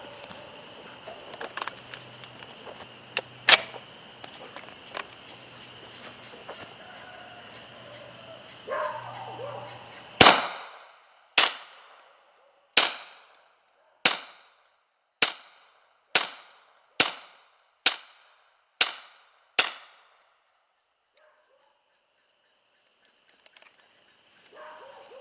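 A Hi-Point pistol, back from warranty repair, fires about ten loud sharp shots at a steady measured pace, each crack followed by a short ring, after a stretch of quieter handling noise outdoors.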